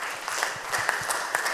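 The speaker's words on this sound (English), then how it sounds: "Give him a round of applause." Church congregation clapping in a brief burst of applause, moderately near, with uneven individual claps rising and falling.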